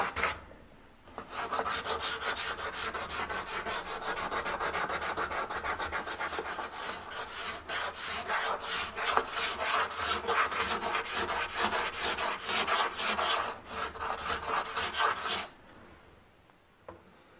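A scraper rasps rhythmically across a wooden marquetry surface in steady, close strokes, the repeated scraping running continuously before stopping near the end.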